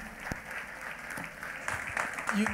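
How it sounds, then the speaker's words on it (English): A church congregation claps during a worship service, a moderately loud, fairly steady clatter of hands that rises toward the end, with faint voices mixed in. "Clap for Jesus Christ once again."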